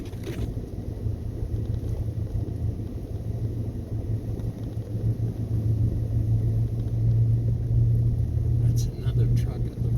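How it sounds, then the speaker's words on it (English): Jeep rolling past on a snowy residential side street, a low steady rumble that swells as it nears, under wind noise on the microphone. "It's a Jeep."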